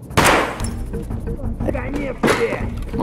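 Gunfire in the video game Valorant comes as a few sharp shots spread apart, each a loud crack with a short tail, while a player talks over it.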